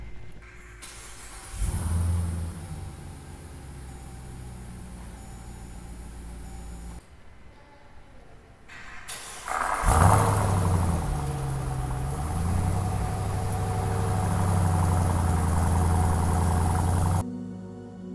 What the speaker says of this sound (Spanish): vamos a encender esta bestia